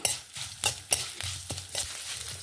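Mustard seeds, fenugreek and neem leaves roast in a pan with a soft sizzle. A spoon stirs in quick, irregular scraping strokes, heard close and without any talking.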